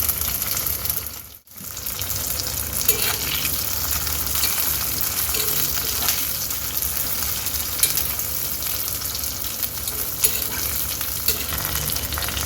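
Tamarind and Kashmiri chillies fry in a pan with a dense, even sizzle close by. It dips briefly near the start, then carries on steadily with faint stirring ticks and no speech.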